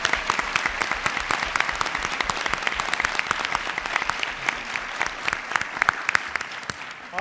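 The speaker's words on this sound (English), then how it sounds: "Please, a big round of applause for Morgan Stanley" Audience applause at a university public policy school's Do Good Challenge finals, dense steady clapping from a large seated crowd filling the room, loud and sustained with no voices over it.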